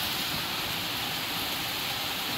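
Heavy rain falls steadily, a dense, even hiss of drops filling the air without a break, close and moderately loud with no talk.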